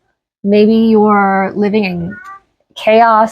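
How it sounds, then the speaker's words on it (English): A pet cat meows loudly and drawn out, with several tonal cries close to the recorder, alternating with a person speaking. "Sorry if you hear my cat in the background."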